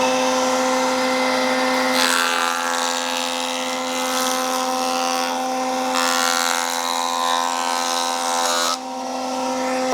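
A jointer machine cuts a 2x4 board: a loud, steady motor whine with a strong hum holds throughout, and two rougher, noisier cutting passes come as the board is fed across the blades, with no talking.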